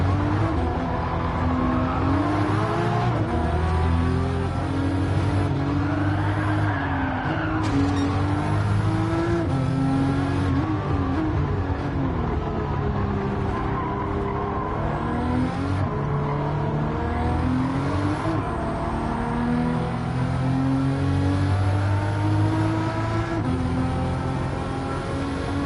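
Subaru race cars battling in Gran Turismo 7: engines rev and climb through gears continuously, loud and close, with shifting pitch sweeps, passing cars and occasional tyre skids.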